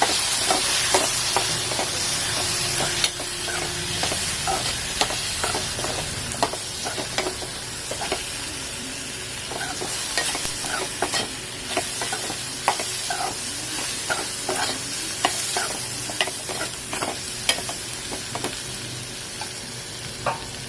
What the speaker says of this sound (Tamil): நல்லா எண்ணெயிலே வதக்கி விடுங்க.